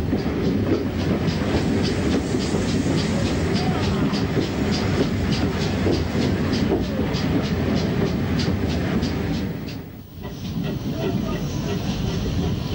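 A steam train runs into Brecon Free Street station in South Wales, a steady loud rumble and hiss with rhythmic clickety-clack of wagons, continuous throughout and briefly dipping near the end.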